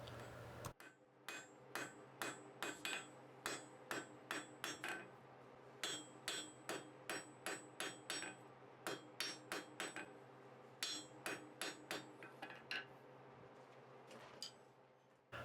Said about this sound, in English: And then I just forge out the end until I get the taper that I want.